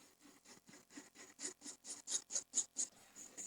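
Graphite pencil shading on paper for a drawing of a stainless steel kettle, heard as a steady series of about a dozen soft, rhythmic scratchy strokes. The strokes swell louder in the middle and are close and quiet, with no talking.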